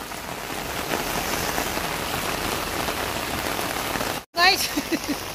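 Steady rain pours and patters on surfaces in Nepal, a continuous close hiss that breaks off briefly near the end, when a voice speaks over it.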